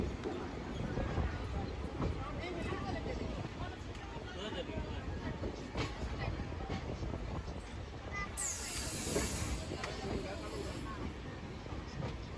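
Begumpura Express passenger train, number 12237 between Varanasi and Ambala Cantt, running with steady rumbling wheel and carriage noise and rhythmic clatter, a brief hiss midway, continuous and fairly close throughout.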